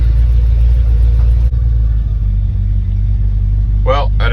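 1989 Dodge service truck engine running as it is driven, a steady low rumble throughout with small bumps, and a short burst of speech near the end.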